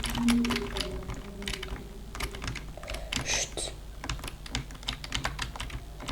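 Computer keyboard being set up and typed on during Roblox and Minecraft play, a dense stream of close clicking keystrokes with a short hushing voice and faint game sounds underneath.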